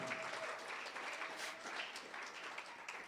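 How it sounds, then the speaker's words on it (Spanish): A church congregation claps for the King during a sermon, a quiet but sustained patter of many hands filling the whole stretch without any voice on top. "Denle un fuerte aplauso al Rey, hermano."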